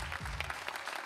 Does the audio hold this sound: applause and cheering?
yes